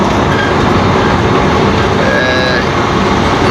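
A passenger train speeds along the rails between Kolkata and Jammu through Uttar Pradesh, a loud, continuous rumble and rattle heard from inside the carriage, with faint wheel squeal.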